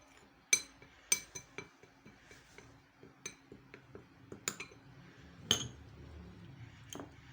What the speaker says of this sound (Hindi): इनको आप अच्छी तरह से पहले मिक्स कर लें